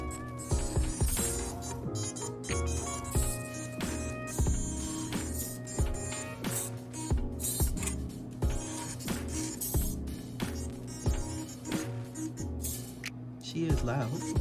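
Small Team Associated 1/28 scale drag RC car with its electric motor running loud and whiny, revving in bursts with clicking and rattling gear noise, close by throughout.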